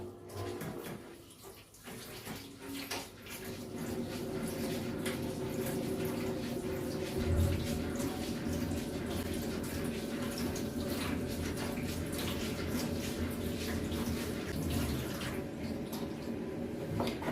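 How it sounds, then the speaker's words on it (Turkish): Soaked rice being washed in water in a home kitchen, with steady close sloshing and running water lasting throughout, fairly loud and unbroken. "Şöyle pirincimi yıkayacağım."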